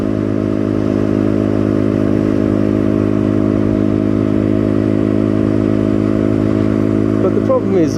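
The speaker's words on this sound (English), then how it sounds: "the motorbike's like a car. You go past things too quickly." A motorbike rides along a road in Thailand with a steady droning engine and wind rumble throughout, loud and close, with a brief clatter near the end.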